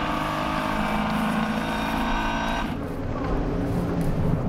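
Renault Sport Trophy race cars roll off on their formation lap at Silverstone, a dense, continuous roar of engines that shifts in tone partway through.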